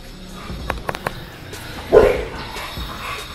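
An American Bully dog gives a single bark among scattered clicks and thumps at feeding time, with faint yips in the background and no talking.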